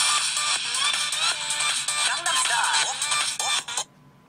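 A pop song melody plays as an iPhone ringtone, loud and continuous with a steady beat and dense synth texture, cutting off abruptly near the end.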